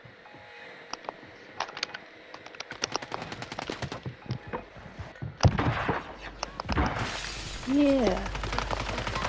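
Gunfire in Call of Duty plays as a run of sharp, rapid shots and bursts, fairly close and moderately loud, followed by a bigger blast and rumble, with a player's voice talking briefly over it.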